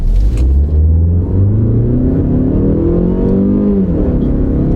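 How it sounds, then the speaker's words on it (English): A car engine revs up as it accelerates, pitch rising, dropping briefly at a gear change, then climbing again; close and loud from inside. "We'll see how zoom-zoomy it is."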